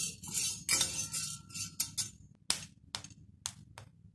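Dry jowar (sorghum) grains roasting in a pan, giving off a run of sharp ticks and clinks as the kernels rattle and pop against the metal, with scattered louder isolated cracks toward the end and no talk.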